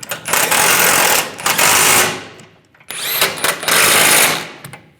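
A power tool tightens nuts on the center bumper step pad of a 2007-2013 Chevrolet Silverado 1500 in two loud, close whirring bursts, each about two seconds long, with a brief pause between them.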